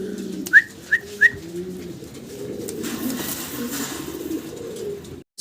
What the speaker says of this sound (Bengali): ডাউন শেপ কবুতর, ব্ল্যাক দুইটা এবং রেড কালারের একটা।